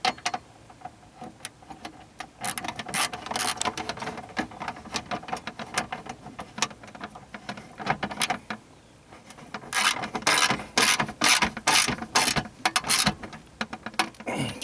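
A hand ratchet clicks and rasps while tightening 8mm bolts on a 2000-2007 Ford Taurus or Mercury Sable, in uneven bursts of quick pawl clicks with metallic scraping, close and fairly loud, with no talking.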